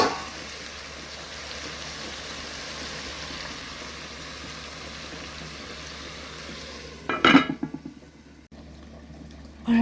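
Jamaican curry chicken sizzling in plenty of oil in a covered pot, a steady crackling fry throughout, then a brief clatter of lid or utensil near the end.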